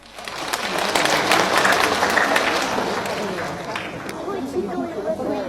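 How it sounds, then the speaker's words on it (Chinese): Applause and crowd chatter fill a large stage hall at a string quartet concert in Shanghai as eight string musicians are welcomed, the clapping swelling quickly, holding dense, then thinning toward the end. "让我们掌声有请"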